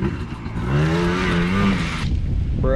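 A Yamaha Blaster ATV engine runs smoothly and revs up, a loud, close droning whine that rises in pitch and then falls back, with no sputtering.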